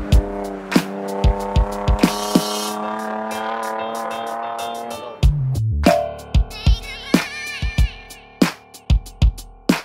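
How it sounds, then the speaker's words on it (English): Mitsubishi Evo 10 with 413 horsepower lapping the Grobnik racetrack on a track day: a loud, close engine climbs through the gears, drops sharply on a shift, then revs again, punctuated by sharp crackling pops. "Drive a Mitsubishi Evo 10 with 413 horsepowers."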